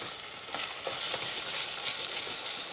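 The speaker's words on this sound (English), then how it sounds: "I just like to kind of keep that stirring around a little bit until that rice is a bit toasted" Rice toasting in a pan with onions and chorizo gives a dense, steady sizzle, with soft scraping stirs breaking through at intervals, close and alone.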